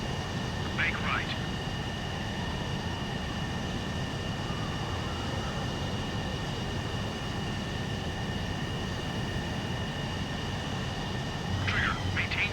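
A jet aircraft engine roars steadily through a nighttime aerial refueling approach toward a tanker in the video game Ace Combat 7, a constant loud drone broken by brief electronic beeps near the start and end.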